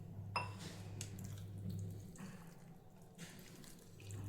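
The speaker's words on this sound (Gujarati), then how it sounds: "હજી આપણે પાણી એડ કરશું." Water running from a tap into a bowl of jalebi batter, a steady close stream with a brief splash near the start, continuing alone without talk.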